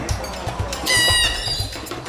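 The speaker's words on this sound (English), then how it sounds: "That's a rainbow lorikeet." Rainbow lorikeet at a rainforest wildlife habitat in Port Douglas, Australia, giving a loud, close, harsh squawk with a shrill, ringing middle section, set against busy background bird chatter and low rumble.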